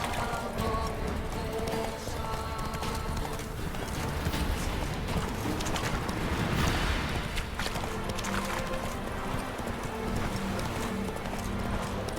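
Horse hooves clip-clopping at a quick gallop in The Witcher 3 video game, a steady rhythmic pounding with jingling tack under game music, faint and continuous.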